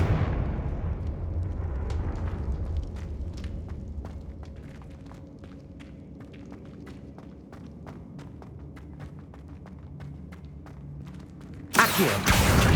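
Fire spell explosions in Hogwarts Legacy: a deep rumbling blast opens, followed by scattered sharp crackling impacts and footsteps, ending with a sudden loud burst near the close.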